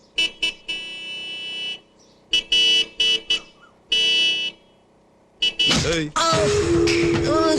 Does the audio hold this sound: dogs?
no